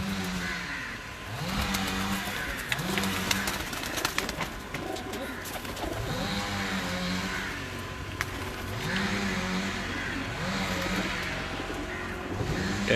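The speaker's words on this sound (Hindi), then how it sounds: "टैडी और लाल आंख वाले मिक्स कबूतर हैं" Teddy and red-eyed mixed pigeons, kept as breeding pairs on a rooftop loft, coo in repeated low throaty rolls that swell and fall across the whole stretch, with faint traffic and a passing engine in the background.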